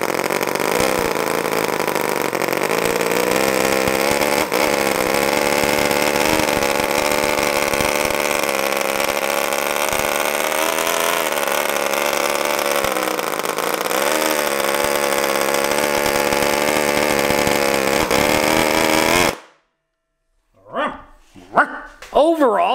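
A tiny NR-200 gasoline model engine runs steadily at a high, buzzing pitch with slight speed wavering, loud and close for most of the time before cutting off abruptly, followed by a few brief sounds.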